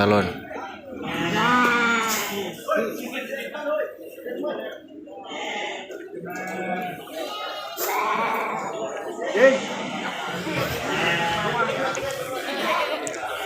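Sheep bleating repeatedly at a goat and sheep livestock market, several wavering calls overlapping amid a busy crowd, with people talking throughout.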